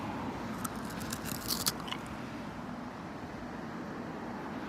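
A few crisp, close bites into a toasty, crunchy pizza crust at a Bangkok night market, sharp crunches over a steady murmur of background noise.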